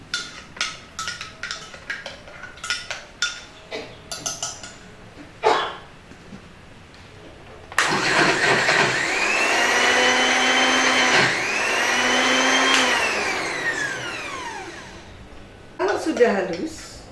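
A blender grinds fish paste with added water: after several sharp dog-like yips and barks, a loud steady motor whine takes over for several seconds, rising and dropping in pitch as the load shifts, then cuts off.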